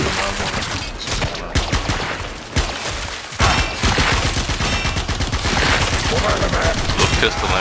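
Rapid pistol fire rattles through a Warframe Railjack mission, dense volleys of close, loud shots running almost unbroken with brief pauses, while a voice talks faintly underneath.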